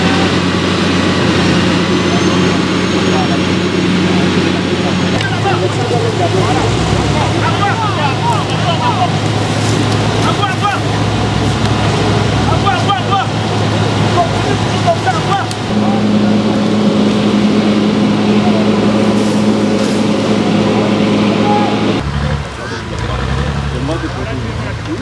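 Heavy road construction machines at work on a dirt road, with a steady loud diesel engine drone and shifting mechanical tones that continue without a break, partly under a voice.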